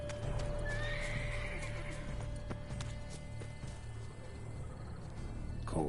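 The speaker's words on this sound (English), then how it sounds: "I just don't like how the horse ran all the way down here." A horse in the video game The Witcher 3 gallops with steady clip-clop hoofbeats, and a whinny rises early on over quiet ambient game sound. No voices are heard.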